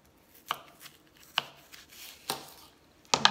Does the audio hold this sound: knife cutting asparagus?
yes